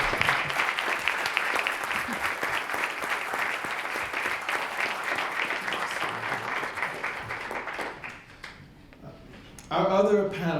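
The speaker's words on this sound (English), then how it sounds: "can we have a round of applause?" A lecture audience breaks into sustained applause, loud and dense, steady for about eight seconds before tapering off. A voice starts speaking right after.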